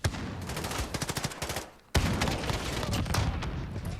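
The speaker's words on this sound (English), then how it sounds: "I'm locking down this atrium using the AK to great effect" An AK rifle in Call of Duty: Modern Warfare (2019) fires close and loud in rapid bursts of automatic gunfire. A brief lull comes before a second, denser stretch of continuous shooting.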